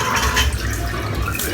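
Hot water runs from a tap over a shaving brush, a steady close rushing splash that holds at an even level throughout with no voices.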